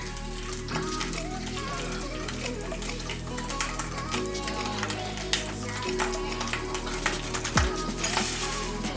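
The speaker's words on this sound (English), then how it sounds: "now we are going to continue sauteing our onions, peppers, and garlic in this beautiful fat" Onions, peppers and garlic sautéing in leftover sausage fat, a steady close crackling sizzle with scattered pops and occasional clinks of a utensil throughout.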